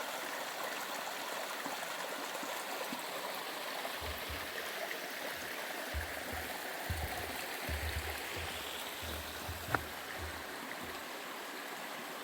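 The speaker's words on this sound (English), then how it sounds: "decent sized little creek" A small forest creek flowing on a hiking trail, a steady broadband rush of water with faint low thumps from footsteps or handling partway through.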